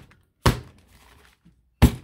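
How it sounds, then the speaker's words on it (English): A stack of homemade baking-journal pages is banged down on a table to even them: two sharp, loud thuds about a second and a half apart, with quiet between. "I'm going to be making a little bit of a banging sound"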